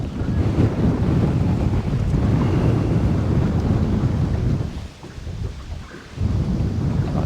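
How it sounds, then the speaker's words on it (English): Strong gusty wind buffets the microphone with a steady low roar, easing briefly before surging back up. "It is windy."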